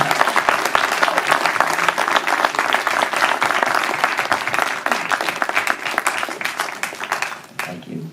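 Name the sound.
audience applause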